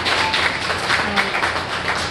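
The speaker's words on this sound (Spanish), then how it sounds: "Un fuerte aplauso al Señor." A church congregation at a family service claps together in a brief, steady burst of applause, dense and fairly close, lasting only a couple of seconds.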